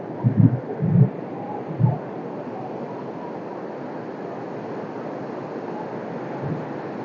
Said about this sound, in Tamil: கடல் அலை வந்து ரொம்ப ஆக்ரோஷமாக வருது